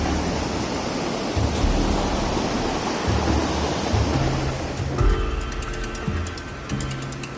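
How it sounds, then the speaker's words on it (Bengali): A hill stream in the remote Bandarban hills rushes in a steady, close, broadband wash of flowing water, joined in the latter part by a rhythmic high insect buzz. "পানি সুন্দর আওয়াজ।"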